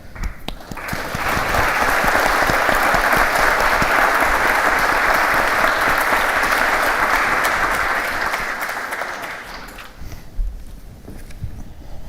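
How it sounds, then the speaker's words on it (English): An audience at a Brazil summit applauds a panel of speakers, steady loud clapping swelling quickly and holding for about nine seconds before tapering off into scattered claps. "please join me in applauding our panel for today's contribution"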